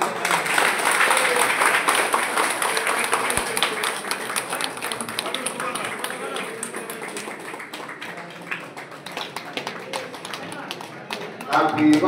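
A group of people at an agricultural product launch celebration claps together in a dense, steady patter of applause that slowly thins, with voices mixed in.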